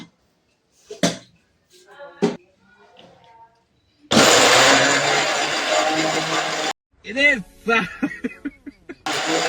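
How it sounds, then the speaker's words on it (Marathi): A kitchen mixer grinder whirs loudly for about three seconds, grinding onion, tomato and coriander, with scattered clatter and someone speaking before and after the burst. "याला मिक्सर मध्ये ग्राइंड करून घेऊ."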